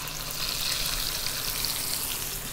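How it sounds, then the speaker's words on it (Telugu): Hot tempering poured into curd rice, a soft steady crackling sizzle, fairly quiet and continuous over a faint low hum, with no talking. "పోపు అంతా ఇందులో కలుపుకుంటే"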